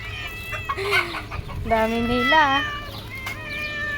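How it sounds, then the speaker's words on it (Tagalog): Pet cats meowing in a household compound among chickens, with a couple of drawn-out, rising cries standing out close by over background clucking and a person talking. "ang ingay ng mga meow meow ko"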